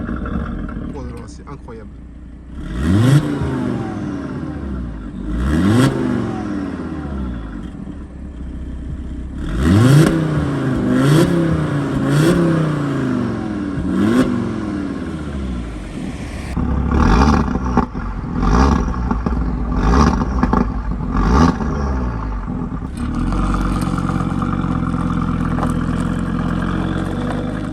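An Audi RS3 8V with the 367 hp five-cylinder fires up and revs repeatedly, rising and falling sweeps close by, with excited talk over much of it and a steady idle near the end.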